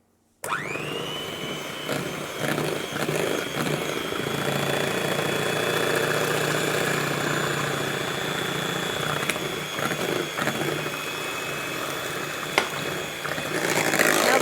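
An electric hand whisk beats cream and icing sugar for a raspberry cheesecake, a steady loud motor whine that starts abruptly and runs continuously, with slight wavering as the beaters work through the mixture.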